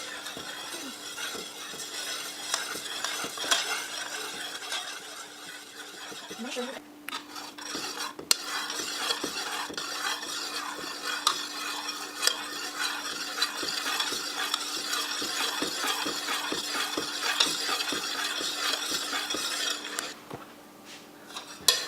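Raindrop cake mixture of water and agar-agar being stirred steadily in a pot for a long stretch. A utensil scrapes and clinks rhythmically against the pot, loud and close, with a short pause partway through.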